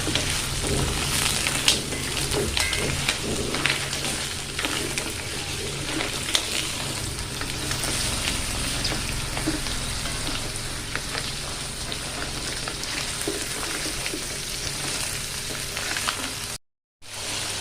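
Mussels sizzling in a hot pan for mussel curry, a steady dense crackling fry with scattered pops, close and continuous, with a brief dropout near the end.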